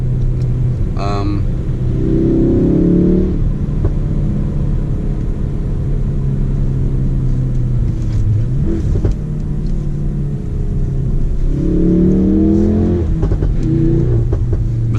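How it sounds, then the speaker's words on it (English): A 2018 Ford Focus RS Black Final Edition turbo engine pulls hard at full throttle, a loud steady in-car drone rising in pitch through two surges, with a brief shift dip between them. "There's like a half-second delay when you put full throttle, so the turbo has to spool up a bit before you really feel the whole power."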